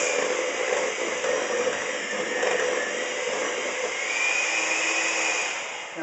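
An electric mixer whirs steadily as it blends eggs into a pumpkin cheesecake batter, a loud, even motor whine that holds for several seconds and eases slightly near the end, with no voices.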